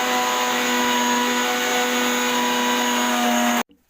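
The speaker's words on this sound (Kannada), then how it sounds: "ಮಿಕ್ಸಿಯಲ್ಲಿ ಗ್ರೈಂಡ್ ಮಾಡಿಕೊಳ್ಳಬೇಕು." A kitchen mixer grinder whirs loudly and steadily while blending biscuit cake batter with sugar and milk, holding a constant tonal whine before cutting off abruptly near the end.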